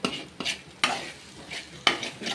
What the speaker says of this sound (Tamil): கடாயில அடி பிடிக்காத அளவுக்கு கிளறணும்.